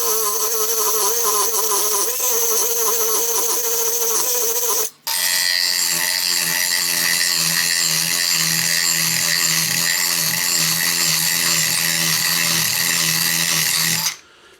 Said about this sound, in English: the last thing I'm going to show you is this carbide wood shaping bit